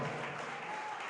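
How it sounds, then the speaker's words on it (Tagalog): Church congregation at a live-streamed service in San Carlos City, Pangasinan, clapping loudly in a continuous, fairly quiet and distant wash for just over a second, with no voices over it. "pumalakpak ng malakas sa ating mahal na Panginoon"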